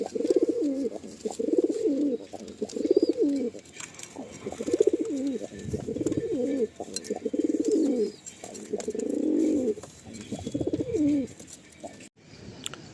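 Pigeons coo in repeated soft, throaty bursts, close by, one phrase after another with brief pauses, and a faint voice murmurs in the background.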